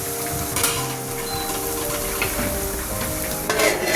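Cabbage stir-frying in a pan with ginger, garlic and onion, giving a steady close sizzle throughout with a few louder scraping stirs near the start and end.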